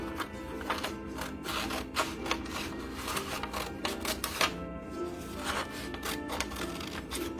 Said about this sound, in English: I'm just doing a rough cut at first to get all the extra stuff off